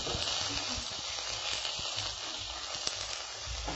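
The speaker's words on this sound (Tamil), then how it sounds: "இது நல்லா வதங்கிட்டு இருக்கு ஃப்ரெண்ட்ஸ்" Mushroom mixture with a little chili powder sautéing in a pan, a continuous hiss and sizzle with scattered soft clicks of stirring, fairly close and steady throughout.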